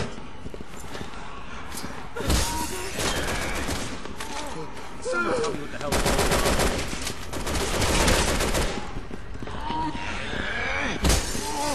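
Automatic gunfire and shotgun blasts in the video game Resident Evil 6, dense sustained bursts of shots with sharp individual blasts, loud and nearly continuous, with voices talking underneath.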